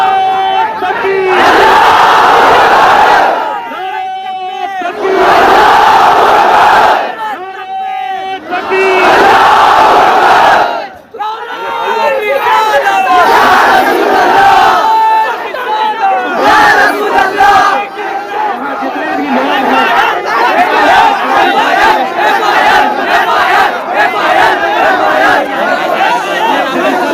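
A large crowd at a rally roaring a religious slogan in unison, loud repeated chant bursts separated by short pauses, then sustained shouting and crowd noise with a leader's voice calling out.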